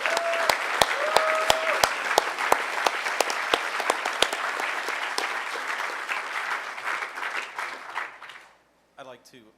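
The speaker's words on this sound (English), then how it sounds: "you guys deserve an incredible round of applause for that" Loud audience applause with a few sharp individual claps up front, sustained for several seconds, then fading out into brief talk at the end.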